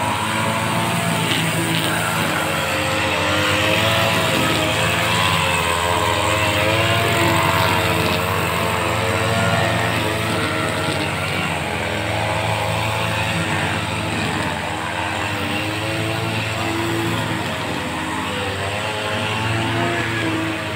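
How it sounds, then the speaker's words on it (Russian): A lawn mower engine drones steadily close by as grass is cut in a park in Yerevan, a constant loud motor hum that lasts throughout with slight rises and falls and no voices. "косят траву."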